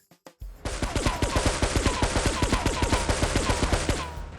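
Rapid, evenly spaced gunfire from Grand Theft Auto 3 Definitive Edition, a loud burst of about twenty muffled, suppressed-sounding shots after a few single opening pops, with no voices.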